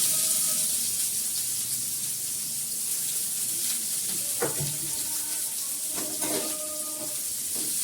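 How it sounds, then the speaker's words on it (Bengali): Onions frying in a pan give off a steady close sizzle and hiss, broken by a few brief scraping clinks from stirring, with no talk over it. "পেঁয়াজটাকে ভালো করে ভেজে নেবো।"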